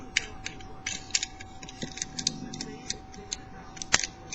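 Picking an ACE 4 lever padlock: a run of small, close metallic ticks and clicks in an irregular rhythm, with one sharper click near the end, over a steady low hum and no talking.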